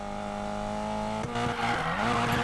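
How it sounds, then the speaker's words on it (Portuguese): An engine drones steadily in Need for Speed Payback until a car breaks into a drift, its tires squealing in a rising, wavering screech while the engine roars on, loud and close, no voices. "Foi um drift, não foi bom esse."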